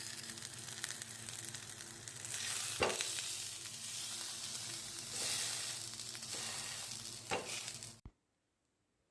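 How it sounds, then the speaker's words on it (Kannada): Sardines in a tangy masala frying in a pan make a steady close hiss and sizzle with a few sharp pops and spatula touches, cutting off abruptly into silence near the end. "ನೀವು ಮೀನನ್ನು ನೋಡಿ ಬೇಯಿಸ್ಕೊಳ್ಳಿ, ಒಂದೊಂದು ಮೀನು ಬೇಗ ಬೇಯುತ್ತೆ"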